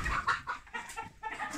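Desi hens in a poultry coop cluck in short, close bursts, with several birds calling over one another in a steady chatter.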